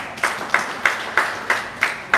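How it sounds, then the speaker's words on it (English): Brief claps from a classroom audience applauding a student, heard as about seven sharp, evenly spaced hand claps at moderate volume. "let's clap for her one more time"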